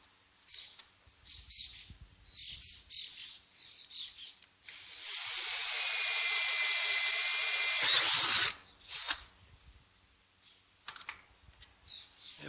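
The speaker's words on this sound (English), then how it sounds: "So we're going to drill a hole" A power drill bores a hole with an 8 mm bit for M8 bolts on a solar panel installation, one steady high whine for about four seconds, set between scattered clicks and light tapping.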